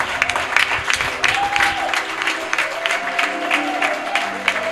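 A church congregation claps loudly and cheers in acclaim of Jesus during a worship service, with dense sustained applause and raised voices of praise throughout.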